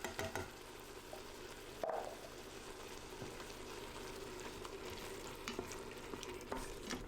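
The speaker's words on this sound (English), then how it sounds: "stir the tomato paste into the ingredients, and cook for roughly about 30 seconds" Tomato paste being stirred into sizzling ingredients in an Instant Pot: a low, steady frying hiss with occasional soft scrapes and knocks of a utensil, fairly quiet and continuous, with no voices.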